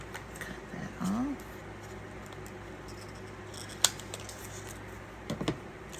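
Scissors snip paper for a collage, a few short crisp cuts heard close but faint over a quiet room hum, with a brief murmur of a voice nearby.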